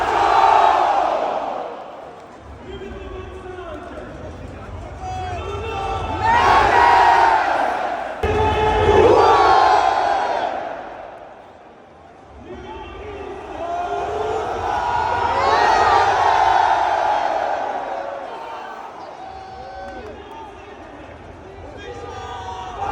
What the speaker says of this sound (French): passons aux choses sérieuses et acclamons nos joueurs